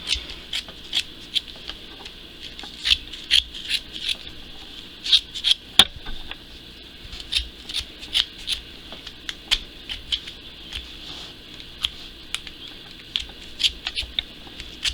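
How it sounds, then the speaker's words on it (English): Scissors snip through loom-knitted yarn for a knit Santa hat in a quick irregular series of sharp, close clicks and crisp snips, with quiet gaps between them. "You're going to go in there with your scissors and you're just going to cut it."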